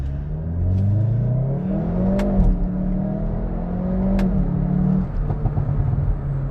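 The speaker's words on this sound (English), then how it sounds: "Like that exhaust, it is so loud." A 2022 Hyundai i30N facelift with 282 hp and an 8-speed DCT roars loudly through its exhaust as it accelerates, revs climbing in two rising pulls with a brief shift break between, heard up close and without talk.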